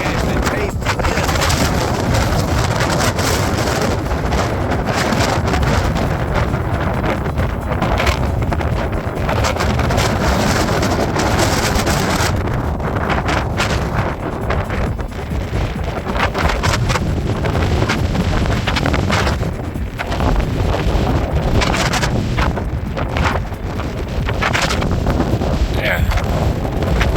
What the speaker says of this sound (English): wind gusts there.